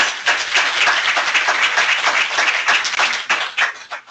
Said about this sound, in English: we're going to give children and families a round of applause.